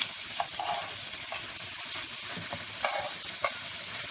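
Steady sizzling of kokoreç (lamb intestines) frying in a pan, a constant crackling hiss with a few soft clicks of a utensil, no voices.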